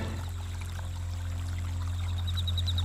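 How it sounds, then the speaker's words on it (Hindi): Water bubbling and gurgling in a village pond, a steady continuous rush and trickle that stays even throughout, close and moderately quiet with no voices. "पानी में बुलबुले उठने लगते हैं"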